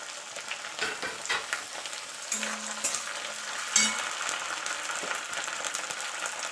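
A garlic-ginger spice paste with a whole tomato, salt and turmeric is stirred in a frying pan, giving a steady sizzle broken by scraping strokes of the spoon, close and fairly loud with no talking.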